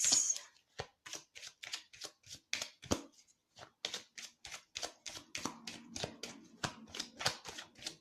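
Tarot de Marseille cards are cut and shuffled close up, a rapid run of crisp papery flicks and snaps with brief pauses, with a faint voice in the background partway through.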